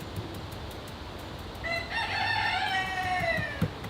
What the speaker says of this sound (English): I think the rooster agrees.